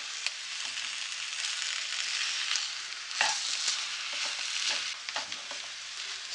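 A potato samosa stuffing, with fresh coriander added, is stirred and mixed in a pan, making a steady soft sizzle with scraping and stirring strokes throughout, close and moderately loud, with no voices.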